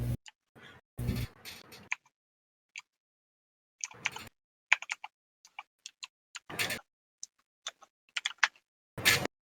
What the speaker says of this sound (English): Someone is a very loud typer.